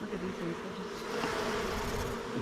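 Honeybees swarm loudly around an opened hive during a beginner beekeeping lesson, a dense, steady buzzing drone that fills the whole clip, close and continuous with no talk over it.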